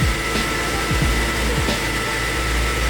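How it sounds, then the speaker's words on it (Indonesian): A vacuum cleaner runs steadily as the load on a Honda EU70iS 7000-watt four-stroke petrol generator, giving a loud, continuous whooshing drone with a few short rising surges near the start. "Ya pertama vakum cleaner kita nyalakan."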